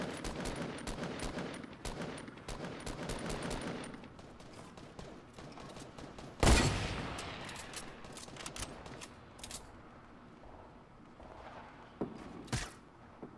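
Gunfire crackles in a 50 vs 50 Fortnite match on Nintendo Switch: fairly quiet, distant rapid bursts and scattered shots, broken by one sudden loud blast and a few sharper shots near the end.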